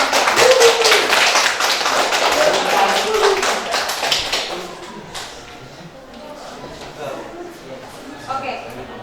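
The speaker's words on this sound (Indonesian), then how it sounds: "Berikan aplaus untuk kompetisi." A classroom gives a short round of applause after a group presentation, brisk hand clapping from many students for about four seconds that fades away, followed by a teacher talking.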